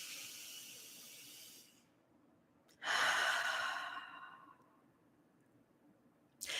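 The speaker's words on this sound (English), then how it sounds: "take a deep breath in through your nose and exhale" A person draws a deep breath in through the nose and then lets it out slowly in a long, airy exhale, close and soft, with quiet pauses before and after.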